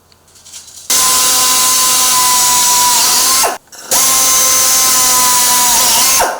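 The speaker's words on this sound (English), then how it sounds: "We are going to drill that with a 1/8 drill bit" A power drill with a 1/8 drill bit bores into a door, running loud and steady in two long bursts with a brief pause and a dip in pitch between them.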